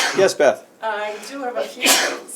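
A single sharp sneeze in a housing authority meeting room, close and loud, right after a short spoken exchange, with more talk following.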